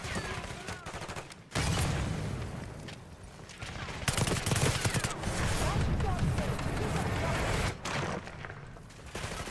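Rapid automatic gunfire in a Black Ops 6 campaign firefight, with dense overlapping bursts that drop out briefly and resume loud and close over several seconds.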